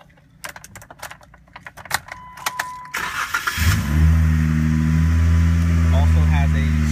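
A lifted 2013 Jeep Wrangler JK Sahara with a sport exhaust starts up after a few key clicks and jangles, then settles into a steady, loud, close idle rumble.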